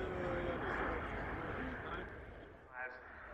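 A military jet being brought in to land during the air display at the Yeovilton Airshow, its steady broad engine roar fairly loud and easing slightly toward the end, with a commentator talking over it on the public address.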